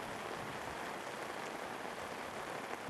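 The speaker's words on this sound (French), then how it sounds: "Il pleut des cordes sur la cité des 18 montagnes." Heavy rain pours at night during the rainy season in Man, the city of 18 mountains, as a steady, even hiss with no break and no voices.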